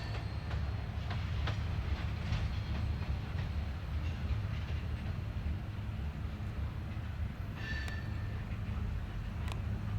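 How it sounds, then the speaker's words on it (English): Westbound CN and eastbound Iowa Northern freight trains pass at Cedar Falls Junction, Iowa, with a steady low rumble and faint wheel clicks. A brief squeal of wheels on rail rises near the end, and wind noise is heard throughout. "we had a train meet here, the westbound CN and an eastbound Iowa Northern at the Cedar Falls"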